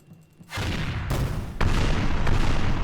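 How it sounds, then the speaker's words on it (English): Explosion and burning effects for a Pathfinder 2 tabletop game, heard as a sudden broadband roar that swells in bursts with two sharp blasts, loud and sustained, without talk. "your sound of explosions and burning. So, more explosions for you."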